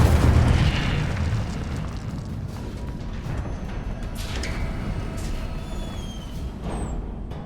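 An Incendio fire spell is cast in Hogwarts Legacy, opening with a deep heavy boom that settles into a continuous rushing, crackling roar with faint whooshing streaks, loud and close, with no talk.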